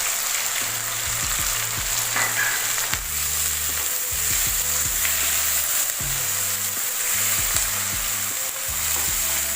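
Tomatoes, green chillies and cashew nuts frying in a pan for butter chicken, a steady close sizzle throughout with intermittent scraping and stirring knocks of a utensil.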